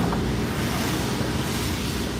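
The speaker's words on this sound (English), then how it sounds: "I got water sprinkler systems blowing into my window." Thermal-water sprinklers in Japan spray against an open car window, making a loud, steady hiss and rush of water close to the microphone, with no talking.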